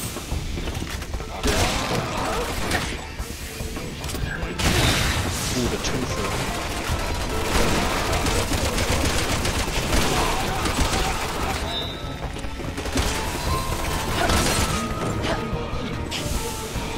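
Gunfire from a weapon in the co-op video game Resident Evil 6, with bursts and crashes over a loud, busy mix of game noise and music under talk.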